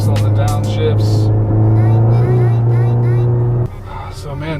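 A modified 2016 VW MK7 Golf R engine blips and revs on downshifts, a loud steady drone with rising and falling tones from inside the car, then dropping off near the end.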